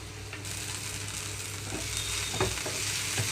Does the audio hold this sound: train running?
no